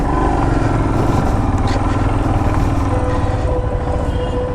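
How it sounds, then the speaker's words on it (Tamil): A Royal Enfield Himalayan motorcycle climbs uphill toward a fort, its engine giving a loud, steady, close drone with a constant rumbling thump and no pause. "இப்போ வந்து இமாலயனில் தான் நான் போகிறேன் பார்த்துக்கிடுங்க"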